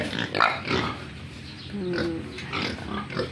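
Pigs on a backyard piggery farm grunt and oink in a busy, overlapping cluster of short snorts and squeals, close by and moderately loud, with a young one-month-old pig among them.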